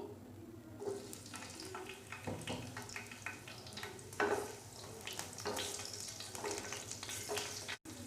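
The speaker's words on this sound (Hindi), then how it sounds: "इसको मैं सब मिर्ची और अदरक का तड़का लगाऊंगी।" Hot oil sizzles and crackles steadily up close as green chillies and ginger fry for a chana dal tempering, with a few clinks of stirring throughout.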